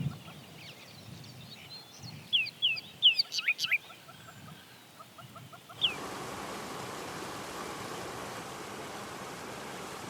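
Bird calls at a waterhole bird hide in Kruger National Park during the dry season: a quick run of sharp chirps and whistles over a low background, then a steady broadband rush takes over.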